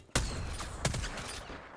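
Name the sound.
gunfire in the video game Apex Legends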